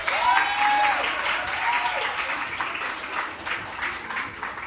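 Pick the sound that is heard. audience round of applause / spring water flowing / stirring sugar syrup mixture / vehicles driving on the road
audience round of applause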